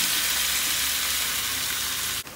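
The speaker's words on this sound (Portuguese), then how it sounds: "Já aqueci a panela e aqui tem azeite. E agora eu vou começar jogando ele já para fritar." Strogonoff meat frying in olive oil in a preheated pan, a steady loud sizzle and crackle that holds throughout, then briefly dips near the end.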